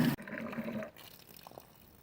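Water splashes and pours onto small garden plants for under a second, a short rushing gush that stops abruptly, followed by faint drips and quiet.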